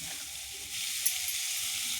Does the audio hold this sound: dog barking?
no